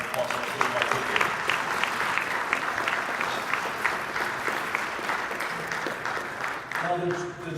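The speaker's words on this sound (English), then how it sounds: "And a round of applause for everyone" Sustained applause fills a room at a county Democratic Party awards celebration, dense and steady throughout, with a voice briefly rising over it near the end.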